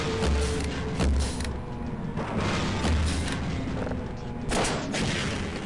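Gunfire aimed at the final boss in the Half-Life video game on hard mode, heard as repeated heavy shots and booming thuds in an irregular rhythm, moderately loud over a busy game background.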